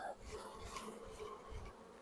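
A dense, steady drone of many honey bees buzzing close by on a frame lifted from a honey-bound hive, continuous throughout with no talking.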